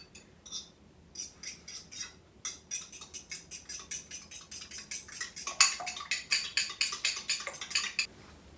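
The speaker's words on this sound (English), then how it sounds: "Make sure that you stir these eggs properly, because since I don't have a beater, I will use a fork" A fork rapidly stirring eggs against a bowl in place of a beater, a quick run of light clinking taps that grows louder and brisker toward the end, close and alone.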